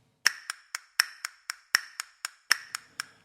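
A steady run of twelve crisp hand claps sounds at an even pace, close and distinct, with slight accents giving a grouped, compound-time feel.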